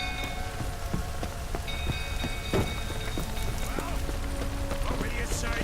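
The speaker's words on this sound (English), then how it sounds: "Looks like rain." Steady rain patters across a Witcher 3 game scene, a dense hiss that never lets up, with faint hoof clip-clops and scattered drops mixed in beneath.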